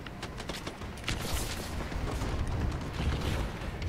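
Rumbling bombing-run explosions overhead in Call of Duty Advanced Warfare, a continuous barrage of deep booms and crackling blasts with no speech.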